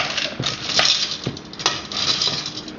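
A spoon stirring melting chocolate and paraffin wax in a pot over low heat, giving light metallic scrapes and a few sharp clinks against the pot, close and fairly quiet, with no talk.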